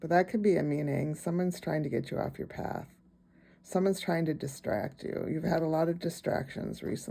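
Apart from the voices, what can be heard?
None of the usual background noises is heard.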